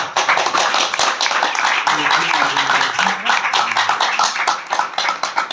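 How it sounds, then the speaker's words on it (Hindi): A church gathering breaks into dense, loud applause that holds steady for several seconds, with many hands clapping together close by. A few voices call out underneath. "एक बार खुदा बाप, खुदा बेटे, खुदा रूह के लिए जोरदार ताली"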